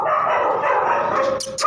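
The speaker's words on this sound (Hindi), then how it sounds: "देखें कितना एंजॉय करके खाते हैं कुत्ते।" Dogs eagerly eat their dinner at night, giving a brief excited yip near the end over steady close munching and rustling.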